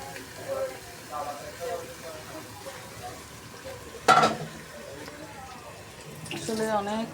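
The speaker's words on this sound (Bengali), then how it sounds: "এখানে আমি মাংসটা রান্না করব।" Meat marinated in turmeric, chili, spices, ginger and cumin paste and salt cooks in a pan, a soft sizzle with stirring and one sharp clatter of cookware, while a person talks over it.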